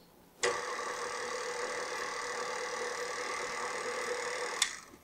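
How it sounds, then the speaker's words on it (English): Electric mixer mixing batter on low speed for peanut butter banana cream cheese bars, a steady motor whir that switches on with a click, runs evenly for about four seconds, then stops, quiet and close with no talk. "we're just going to mix it real quickly, just for a bit, on low speed"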